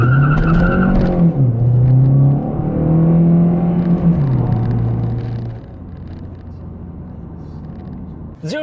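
A 2020 Hyundai Sonata Hybrid in sport mode accelerates from inside the cabin, its engine drone rising and stepping through shifts, loud at first, then easing to a steady lower rumble.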